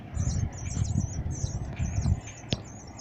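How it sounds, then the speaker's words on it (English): Baby birds in a nest, giving a continuous thin high chirping that runs through the whole stretch over rustling and handling noise nearby. "There's a little bird's nest right here too."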